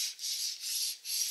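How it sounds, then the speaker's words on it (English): A belt grinder part slides back and forth on a clamp, making three close, quiet scraping rubs separated by short pauses. "tighten the clamp, and see how this slides back and forth"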